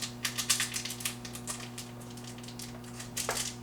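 Cellophane pack of henna torn open by hand, with rapid crinkling and crackling bursts, dense at first, then sparser, then a final flurry, heard up close over a steady low electrical hum.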